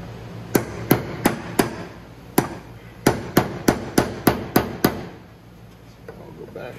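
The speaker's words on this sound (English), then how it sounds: "you want to start hitting the tab on one side and go to the other, because it does twist as it undoes" A 2002 7.3 Powerstroke oil filter cap tab struck with a heavy duty paint scraper, giving about a dozen sharp metallic taps in quick, slightly uneven succession, close and loud, then a quiet pause.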